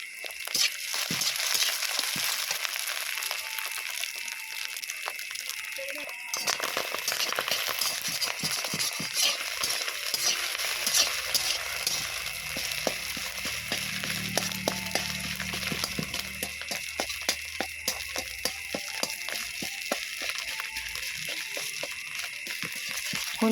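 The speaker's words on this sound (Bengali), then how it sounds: "ডিমের মধ্যে লবণ, একটু হলুদ আর একটু হালকা লঙ্কার গুঁড়ো দিয়ে ভেজে নেব।" Eggs frying in oil with salt, turmeric and chili powder for an egg pasta dish, a steady soft sizzle with scattered scraping and clicking of a spatula throughout, no talking.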